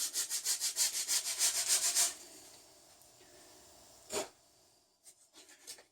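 Hand sanding a bevel into the edge of a wooden plank for boat planking: about ten quick, rhythmic rasping strokes, close and fairly loud, then a quiet stretch with a single scrape and a few faint rubs.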